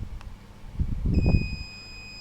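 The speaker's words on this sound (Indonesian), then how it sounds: "Buzzer berbunyi ya, dan LED menyala." The buzzer of a homemade rain detector, set off when its sensor is dipped in water, starts partway through as a steady, high electronic beep tone that continues to the end, over low handling thumps.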